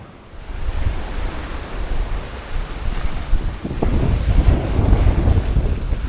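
Strong wind of around 25 knots at sea aboard a sailboat running downwind, a loud steady roar of wind buffeting the microphone mixed with rushing waves and hull water noise, no voices.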